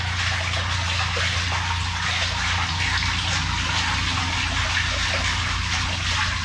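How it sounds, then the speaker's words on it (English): Water from two flushed toilets and a laundry tub rushing steadily through a newly unblocked household drain, a loud continuous gushing flow with no pauses. "So we flushed both toilets and let the laundry tub go."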